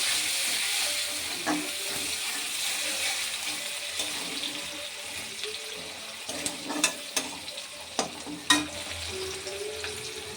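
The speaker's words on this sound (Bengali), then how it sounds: "এবারে হালকা ভাজবো।" Chopped onions frying lightly in hot oil in a pan for a pointed gourd and prawn curry, a steady close sizzle with a few sharp clinks and scrapes of a spatula toward the end, no talking.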